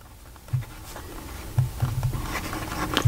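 Pineider Avatar fountain pen with a medium steel nib writing on paper, giving soft, close scratchy strokes with several brief louder taps and scrapes as the nib meets and moves across the page.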